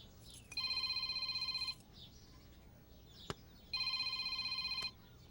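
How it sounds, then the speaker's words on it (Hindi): Two bursts of an electronic phone ring, each about a second long, separated by a pause with a single faint tap between them. "फोन उठाओ, स्पीकर पे करो"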